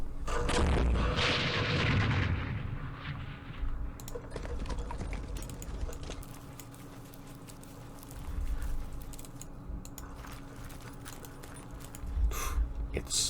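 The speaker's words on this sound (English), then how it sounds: "Oh, mortars." Mortar and artillery fire in a war video game, with a heavy rumbling blast at the start followed by repeated sharp impacts and crackling shots of varying loudness.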